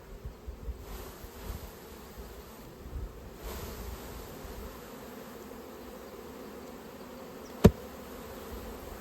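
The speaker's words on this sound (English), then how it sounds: "I'm just going to shake these bees in the front and let them go on in." Honey bees shaken out in front of their hive hum in a low, steady drone throughout, with one sharp knock partway through.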